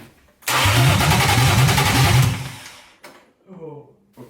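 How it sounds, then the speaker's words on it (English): A BMW car engine cranks with a rapid rhythmic churning for about two seconds, then stops; brief faint rustles follow. "Okay, we are cranking now."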